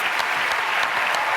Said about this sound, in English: let's give her one big round of applause as she leaves